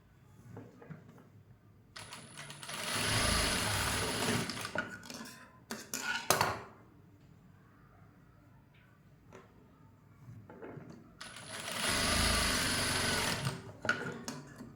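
A sewing machine runs in two steady stitching bursts while a blouse is sewn, with quieter clicks and handling noises between the runs.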